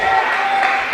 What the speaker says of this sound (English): They're out there cheering